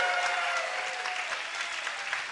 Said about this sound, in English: Giving a cheer for the winners here.